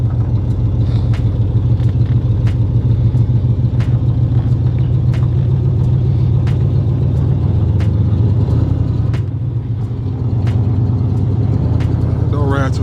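A Chevy El Camino's engine rumbles steadily and loudly from inside the cab while cruising, a continuous deep drone with a brief dip near the end, with faint ticks and rattles over it.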